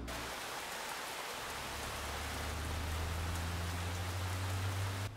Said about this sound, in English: You mean like rain?